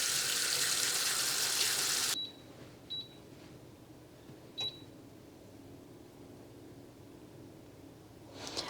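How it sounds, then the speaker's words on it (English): Tap water gushing loudly into a pot of venison stock ingredients with peppercorns and garlic powder, a steady bright rush that stops abruptly after about two seconds, followed by a few light clinks in a quiet kitchen. "Next, you just fill it up and cover it all with water."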